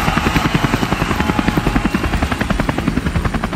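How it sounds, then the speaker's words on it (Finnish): A helicopter flies close by, its rotor beating in a steady, loud chop with a continuous engine whine beneath, no voices. "No niinhän se tulee, Hessu Järvinen, tuolla varsin lentokoneella, ei kun helikopterilla."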